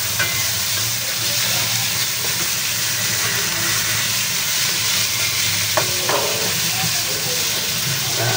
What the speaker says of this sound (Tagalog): Gigisa po natin yung ating tilapia.